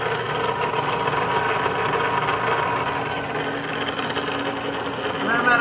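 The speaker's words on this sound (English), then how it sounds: "My drawbar is what makes noise." A milling machine's drawbar makes noise while the spindle runs at 1,000 RPM during a light cut for a Honda K-series pinned deck conversion, a steady mechanical drone with faint vibration and no pauses.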